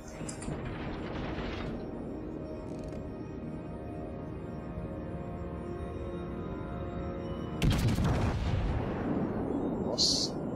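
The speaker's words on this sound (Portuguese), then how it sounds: "Eu vou atirar no Izumo." Naval gunfire in World of Warships aimed at the Japanese battleship Izumo, a steady mechanical rumble of turrets with a loud burst of shots later on, heard alone without talk.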